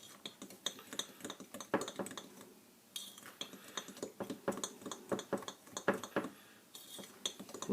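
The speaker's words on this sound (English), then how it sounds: "I'm going to stir that up." Apple cake batter stirred in a bowl, with rapid irregular clinks and scrapes of a utensil against the dish, close and fairly quiet, with a brief pause near the middle.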